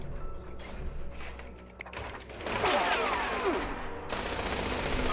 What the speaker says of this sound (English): It's a turret.